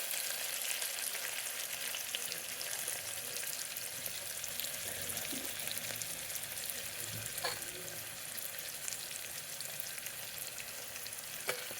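Ginger frying in a pan, a steady low sizzle running throughout with a few faint stirring scrapes, close and even in level.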